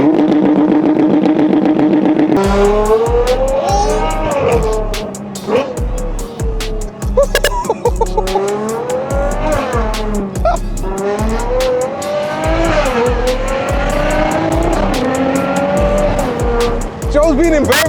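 A Ferrari Purosangue V12 snarls through a hard launch, with repeated sharp tire squeals and engine surges rising and falling over roughly fifteen seconds, close and loud, while voices talk and exclaim underneath.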